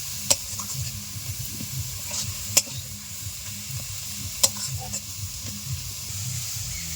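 A carrot filling for kachori sizzles steadily in a pan as it is stirred, with a few sharp clinks of the spoon against the pan spaced a couple of seconds apart.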